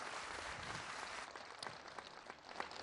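Crowd applause at Barack Obama's homecoming gathering in his village of Kogelo, Kenya: dense, steady outdoor clapping from many people, fairly distant and continuous throughout, with a few sharper nearby claps and a faint murmur.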